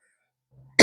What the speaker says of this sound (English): excuse me for coughing in your ear